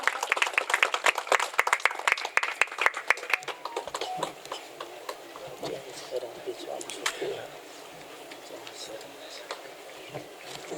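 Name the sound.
audience applauding at an event in Patna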